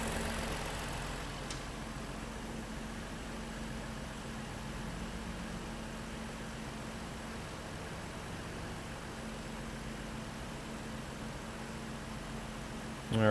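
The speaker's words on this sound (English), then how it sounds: "The engine is running a little bit rough." A 2014 Lincoln MKZ with the 3.7L engine idles rough from a cylinder misfire, a steady low drone holding at moderate level for the whole stretch with no talk over it.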